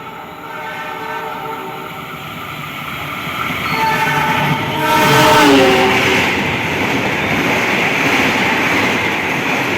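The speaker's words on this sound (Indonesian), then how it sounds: "Sangat kencang sekali ini Argo Bromo Anggrek" Argo Bromo Anggrek express train rushing past at high speed, a loud continuous roar and rattle of wagons building up, with a sustained horn blast sounding midway through.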